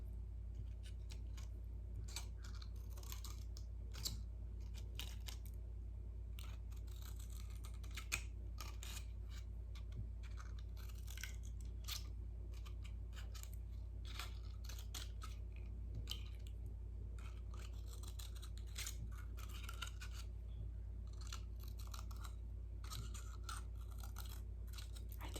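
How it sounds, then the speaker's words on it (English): Scissors make quick little snips around the edge of a paper card, a steady run of small crisp cuts repeating close up for a long stretch with no talking. "I'm going to go all the way around, making little snips right to the top."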